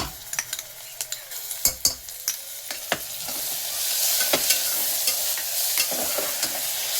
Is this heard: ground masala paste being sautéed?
yes